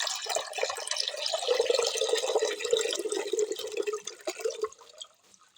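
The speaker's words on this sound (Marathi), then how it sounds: "आता ह्याच्यात पाणी टाकूया पाणी टाकायला सुरुवात केली आहे" Water pours steadily into a bird water bowl in a garden, a continuous splashing and trickling stream that runs for several seconds and then tapers off near the end.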